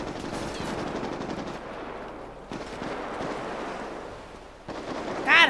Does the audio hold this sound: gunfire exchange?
yes